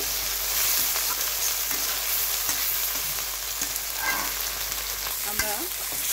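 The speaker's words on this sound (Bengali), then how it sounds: "নাড়াচাড়া করে মিশিয়ে নিচ্ছি। যত কষাবেন ততই ভালো লাগে খেতে।" Bay leaves and spices fry and crackle in an oily pan for a fish curry, a steady close sizzle with occasional scraping stirs throughout.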